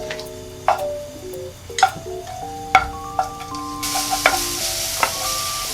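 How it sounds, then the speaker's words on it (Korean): Garlic stir-fries in cooking oil in a pan, a steady sizzle punctuated by regular sharp clinks of a utensil against the pan, fairly close, with no voices. "식용유 1스푼을 두르고요. 마늘 한 작은술 정도 넣어서 먼저 볶아줄게요."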